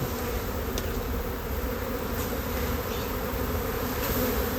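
A swarm of wild bees buzzing around, a continuous close drone of many wings at steady loudness with no voices over it.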